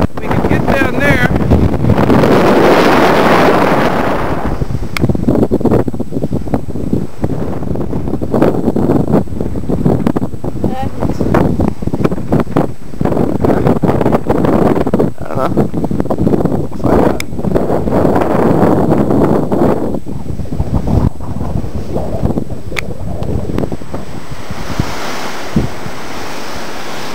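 Strong gusts roar and buffet against the microphone alongside crashing surf at Enchanted Rock, with voices talking intermittently beneath the blustery noise.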